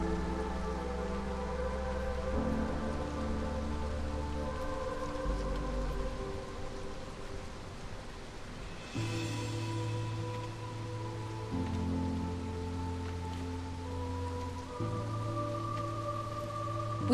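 Steady rain pours through a storm in the settlement game Against the Storm, a continuous wash of falling water under sustained layered tones that shift every few seconds.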